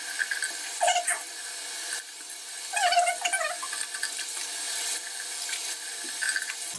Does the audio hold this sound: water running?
yes